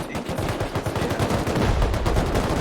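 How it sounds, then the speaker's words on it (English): Rapid gunfire in the video game Rust during a 5v5 base-raid tournament match, dense overlapping automatic shots crackling continuously and fairly loud throughout. "I'm hearing a lot of gunshots behind us"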